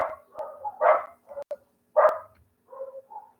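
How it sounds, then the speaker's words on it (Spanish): Several dogs bark in a series of short, fairly close woofs and yips, grouped in irregular bursts with brief silent pauses between them. "Mira que ya empezaron los perritos y ya no nos van a dejar dar más clases"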